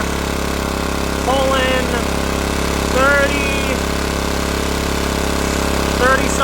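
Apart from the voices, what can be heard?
small off-grid generator engine running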